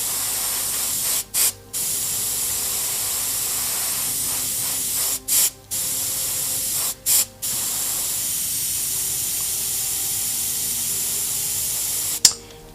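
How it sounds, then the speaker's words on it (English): Airbrush spraying ink glaze onto a painted figure, a continuous close, loud hiss broken by three short pauses where the trigger is released, then a small click at the end. "When I do glazes with airbrush, usually I prefer use inks and not matte color like this Chimera."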